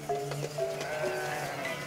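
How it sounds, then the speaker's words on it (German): A flock of sheep bleating repeatedly, several overlapping calls at different pitches, close and fairly loud over a low outdoor background. "Ja, das ist aber eine Herde, Helena."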